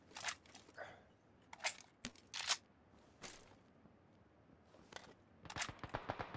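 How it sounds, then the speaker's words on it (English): Bursts of gunfire in PlayerUnknown's Battlegrounds: several separate sharp shots, fairly distant and moderately loud, ending in a quick rapid-fire volley. "Yeah, I got gunfire to my side."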